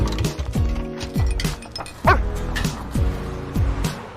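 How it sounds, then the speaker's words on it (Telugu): A pet dog gives a run of sharp, close barks and yips in quick bursts of roughly two per second, with a light clink heard once among them. "కుక్కని తెచ్చుకున్నావు అబ్బాయి"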